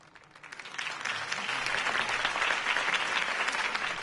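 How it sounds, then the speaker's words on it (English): A crowd breaks into applause that swells quickly from scattered claps to a sustained, dense clapping. "could have heard that applause"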